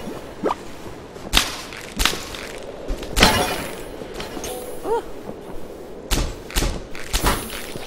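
Gunshots in the Pinstripe video game ring out as sharp, loud cracks, about eight separate shots spaced irregularly across the stretch, with quieter game ambience between them.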